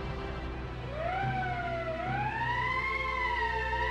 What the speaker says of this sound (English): Is that some sort of ambulance? Siren.